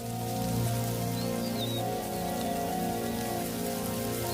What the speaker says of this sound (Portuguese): O solo amolece com as primeiras gotas de chuva, permitindo que esses insetos alados surjam aos milhares.